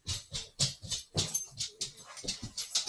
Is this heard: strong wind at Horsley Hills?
no